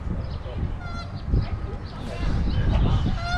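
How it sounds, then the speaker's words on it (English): Several geese honk repeatedly against a rumbling outdoor background, their calls overlapping and moderately close. "we have already found our first two geese"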